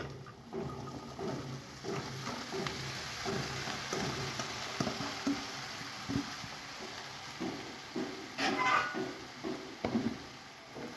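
Chopped radish, beans and potato stir-frying in a pan, with a steady soft sizzle and repeated clinks and scrapes of a spatula stirring the vegetables, close and continuous without talk.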